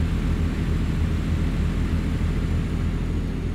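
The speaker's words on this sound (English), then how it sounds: "Oh, look at that chopper." A helicopter passes overhead while a truck drives along a road in American Truck Simulator, a steady loud rumbling drone with broadband noise that holds evenly throughout.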